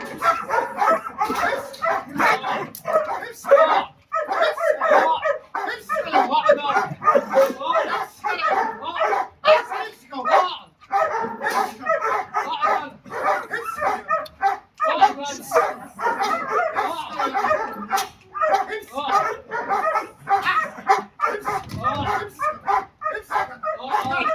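A dog barks and yips repeatedly during guard dog training, sharp bursts close by, mixed with frequent talking and commands from a trainer.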